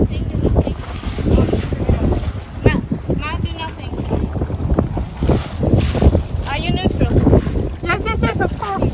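A sailboat moves under way toward the quay at Papeete, with a steady rush of wind and water, wind buffeting the microphone, and voices talking over it throughout.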